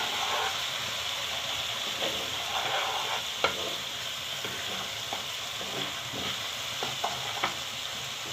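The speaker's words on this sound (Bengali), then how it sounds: "এবারে এটা আমি মশলাটি কষিয়ে নিচ্ছি।" Spice paste with salt being stir-fried in a hot pan for temple prasad cooking, a steady sizzle and frying hiss with intermittent scraping stirs and small clicks of the spoon, close and continuous with no talk.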